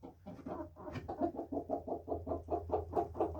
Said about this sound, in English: These are called bluebells, these chickens.